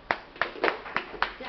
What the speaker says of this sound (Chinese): 拍手掌先